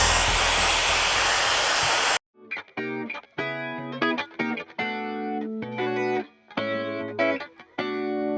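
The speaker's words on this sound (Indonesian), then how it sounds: "kita lanjut keringkan rambutnya, tapi pakai diffuser" A hair dryer fitted with a diffuser blows on curly hair, a loud steady rushing roar for about two seconds that cuts off abruptly, followed by music.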